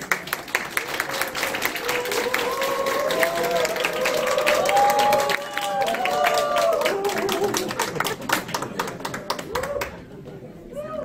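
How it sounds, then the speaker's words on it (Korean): A graduation ceremony for an agricultural farmers' college in Hongcheon fills with steady, dense audience applause and crowd noise lasting about ten seconds, with voices mixed in underneath before it thins out at the end. "굉장히 큰 박수로 앞으로 오십시오."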